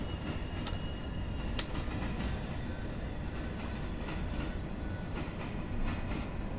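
Train cars rumble and clatter along the rails in the Railroader game while hopper cars and a caboose are cut from a train, a continuous quiet rolling noise with occasional sharp clicks and faint metallic squeals.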